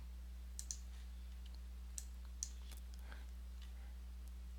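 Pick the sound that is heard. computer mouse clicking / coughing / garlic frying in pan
computer mouse clicking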